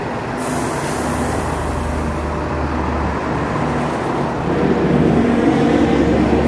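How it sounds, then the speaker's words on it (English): Buses coming and going at a ferry terminal bus stop before dawn, a loud low engine rumble with idling drone and a hiss of air, swelling as a vehicle moves near. "It might get a little noisy down here with all these buses coming and going"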